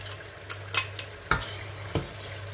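Masala tipped into a pot while chickpea pulao cooks, with a handful of soft scraping and clinking knocks from a spoon against the pot over a low hum. No one speaks.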